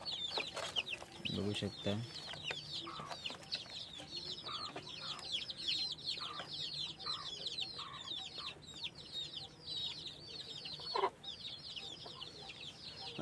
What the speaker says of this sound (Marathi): आपल्या घरच्या कोंबड्या सुद्धा दाखवतोय तुम्हाला